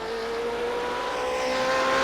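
A BMW M8 GTE race car in the iRacing game roars down the straight toward turn 1, its engine note a loud, steady, rising drone that climbs in pitch as the car accelerates.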